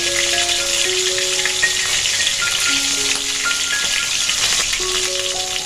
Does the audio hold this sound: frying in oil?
yes